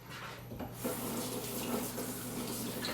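Tap water runs steadily into a kitchen sink while red potatoes are rinsed, a continuous close splashing flow that grows slightly fuller after the first moment.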